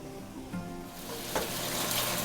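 Pieces of chicken sizzle and crackle as they fry in a pot for three cup chicken, a steady hiss that swells louder toward the end, with no one speaking.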